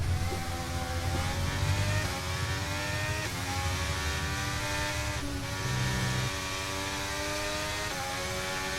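A Formula 1 car in the F1 23 racing game is chasing a Ferrari through a lap, with its engine whining steadily and loudly and the pitch climbing through gears in repeated rising sweeps.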